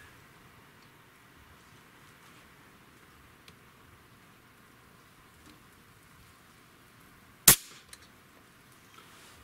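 A single sharp click as an air rifle trigger releases against a Lyman trigger gauge during a pull-weight test, close and brief in an otherwise quiet room.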